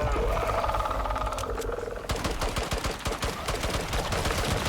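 Machine gun fire in the Icarus survival game aimed at slugs. The rapid, dense bursts start partway through and run under a continuous loud rumble of game noise, with no speech.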